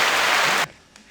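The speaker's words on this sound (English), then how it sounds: "Round of applause" Applause for athlete Amanda, a dense burst of clapping for just over half a second that cuts off abruptly into near silence.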